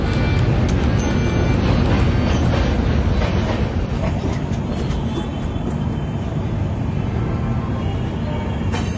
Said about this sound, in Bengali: একশো 53 বছরের পুরোনো স্টেশন বারাণসী জংশনে এসে পৌঁছালো আমাদের পূর্বা।